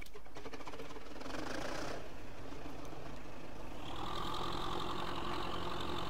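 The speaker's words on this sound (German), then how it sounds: "Motor starten." Tractor engine in the Farming Simulator 15 game starting up and settling into a steady mid-pitched idle, a continuous mechanical drone that grows a little louder and brighter partway through, with no talking.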